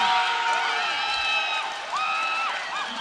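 Spectators at a men's inter-town volleyball tournament match cheer and whoop loudly, a sustained crowd roar with shrill whistles and voices rising and falling throughout, under an announcer's talk.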